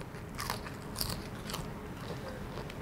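Crunchy bites into Thai crispy garlic shrimp with the fried tail, several sharp crackling crunches spaced about half a second apart, close and fairly loud, followed by softer chewing.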